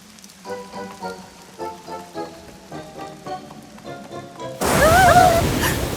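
Rain in a My Little Pony cartoon: after a few seconds of plucked music, a dense, hissing downpour suddenly takes over and stays loud and close until the end, with a brief high whistling tone inside it.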